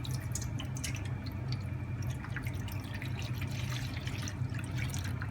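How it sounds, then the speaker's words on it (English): Water runs and splashes steadily into a shallow baking tray holding crème caramel cups, with a constant trickling wash and small drips throughout, no voices. "into the base of a tray, just add some water"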